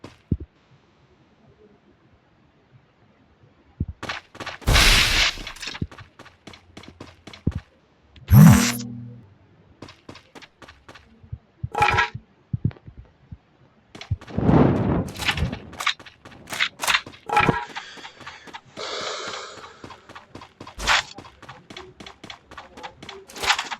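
Gunfire in a shooter video game comes as rapid bursts of sharp, loud shots separated by short quiet gaps, with occasional heavier blasts, and no talking.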